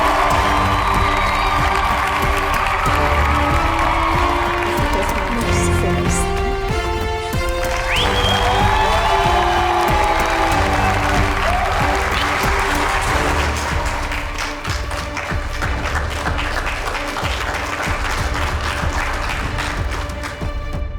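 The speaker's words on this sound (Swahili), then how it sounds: "Tumpigie makofi tafadhali." A large audience gives sustained loud applause for speaker Amina Juma, with cheering, whoops and children's shouts layered over dense clapping and music for about twenty seconds.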